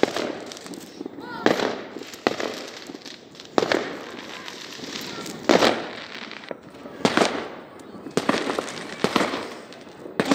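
New Year fireworks in Almaty bursting repeatedly, sharp cracking pops at irregular intervals over a steady crackling background, moderately distant.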